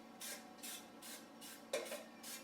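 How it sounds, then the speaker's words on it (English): Several short bursts of cooking spray sprayed into a cake pan, hissing in a quick irregular rhythm close by, with no talking. "make sure to spray all the sides."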